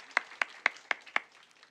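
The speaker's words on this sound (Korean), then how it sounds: "박수하겠습니다" A church congregation claps in welcome for a newly registered member during Sunday worship, heard as five distinct, evenly spaced claps that are fairly faint and ring out in a reverberant hall with no talking.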